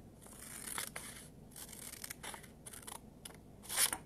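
Scissors cut partway into a paper square to make a pinwheel, a series of soft, close snips and crisp rustles, with no one talking.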